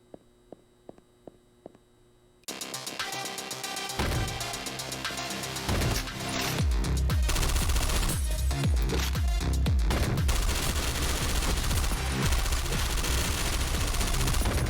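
Gunfire in the top-down shooter OTXO erupts after a few quiet ticks, growing into dense, nonstop volleys of loud shots and impacts layered over a thumping game soundtrack.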